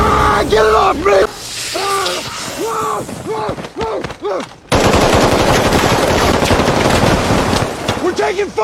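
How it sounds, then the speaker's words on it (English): Loud bursts of machine-gun fire rattle through an action scene of a firefight with SWAT and a stolen 10-ton armored truck, mixed with yelling voices and a sudden heavy burst that fills the second half. "We're taking fire! Get down! Suppressing fire!"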